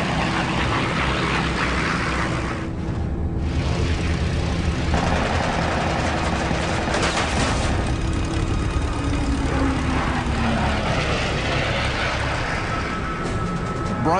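A P-51D Mustang fighter cruising at about 10,000 feet, its propeller engine giving a continuous heavy drone that stays level and fairly loud throughout, with no voices.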